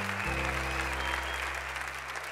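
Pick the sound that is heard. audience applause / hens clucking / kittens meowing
audience applause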